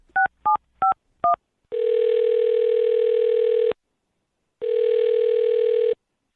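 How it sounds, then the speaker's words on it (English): A telephone dials a number: four short touch-tone beeps in quick succession, followed by two long, steady ringback tones separated by a pause. "I'm going to dial her phone number right now"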